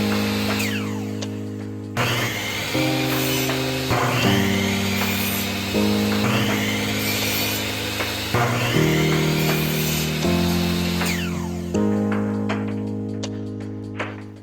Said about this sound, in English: I started the window trim project by cutting the wood down to size.